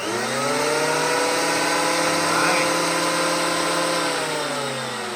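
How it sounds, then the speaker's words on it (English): A big 20 amp electric planer powered by a Solix F2000 power station, spinning up with a rising motor whine and holding a loud steady harmonic drone, close by, no talk. "we are going to see if the Solix F2000 will run this big 20 amp planer"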